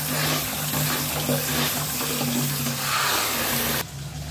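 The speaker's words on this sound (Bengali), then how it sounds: "শুটকিটা দেওয়ার আগে ধুয়ে নিই ভালো করে, জালির ভিতর নিয়ে ধুয়ে নেব ফ্রেশ করে।" A tap runs steadily and loudly as dried fish is washed in a mesh net, water splashing continuously before cutting off abruptly near the end.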